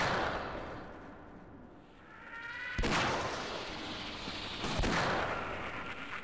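Gunfire in Half-Life during the alien factory and Nihilanth finale, sharp loud blasts ringing out with a long echoing decay, two main shots standing out over a rumbling background.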